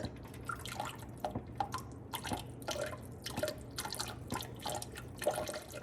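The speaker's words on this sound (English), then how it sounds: "I'm gonna add a little bit of white vinegar to the water on the bottom." White vinegar splashes and trickles into water in a pressure canner in a series of uneven bursts, close up, over a low steady hum.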